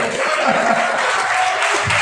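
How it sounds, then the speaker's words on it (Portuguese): A church congregation applauding during a worship service, loud dense clapping from a crowd that stays steady for the whole stretch, with a faint sustained tone and no clear speech above it. "Você também é livre para aplaudir o Senhor."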